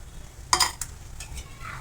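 Sweet potato roasts in a kadhai over a gas flame and gets stirred, with a couple of sharp metal scrapes and clinks of the spoon against the pan over a faint, quiet sizzle.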